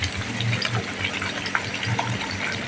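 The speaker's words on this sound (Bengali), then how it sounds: "এখানে দেখো মাংসের জন্য কড়াইতে জলটা দিয়ে দিলাম" Water pours into a cooking pan for meat, a close gushing splash that runs continuously for a few seconds with bubbling and uneven surges.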